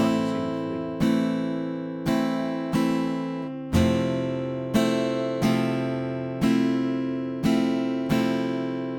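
Guitar chords are strummed in a steady pattern, each fresh attack ringing and decaying before the next, with some hits accented louder to mark groupings.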